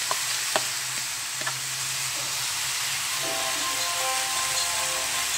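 Fermented black beans (tausi) and tofu stir-frying in a pan give a steady, close hiss and sizzle, with a few sharp utensil clinks early on and no voices.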